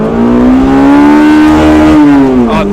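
A stock Honda S2000 with factory exhaust and intake revs hard toward 9,000 rpm, a loud, steady, rising engine whine that climbs smoothly for over two seconds before dropping off near the end.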